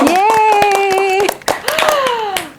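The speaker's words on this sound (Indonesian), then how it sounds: "Tepuk tangan dulu dong" A small group claps in short rhythmic bursts at an Indonesian campus award moment, hands striking close and steady while excited voices squeal and cheer over them throughout.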